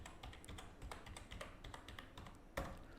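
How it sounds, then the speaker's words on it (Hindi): Keys tapped on a computer keyboard in quick, irregular succession while a number is entered into an IVR calling system, close and fairly quiet, with one sharper, louder keystroke near the end and no one speaking. "अभी मैं कीबोर्ड पे टाइप कर रहा हूँ"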